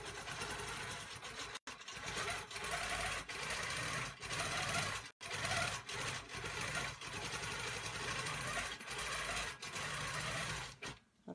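Longarm quilting machine stitching a small postcard or pincushion quilt, a steady close buzzing hum that runs continuously with two brief pauses and slight shifts in speed.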